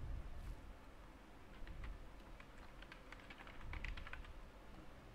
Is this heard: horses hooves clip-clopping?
no